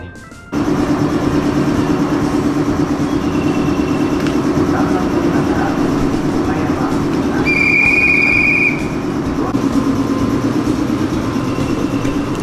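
A train runs along a railway where cars wait at the crossing in the evening, giving a steady loud rumble throughout with a brief high whistle-like tone near the middle.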